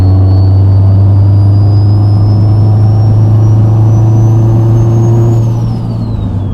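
An 800hp Subaru STI with a 64 turbo runs at full throttle from low revs, a loud, steady engine drone with a rising whine that climbs over several seconds, then drops off near the end.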